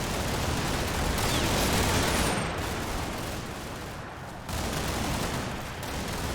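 Sustained gunfire from British troops and armed jeeps in the WW2 combat game Combat Mission: Normandy, a dense, continuous roar of shooting and battle noise throughout.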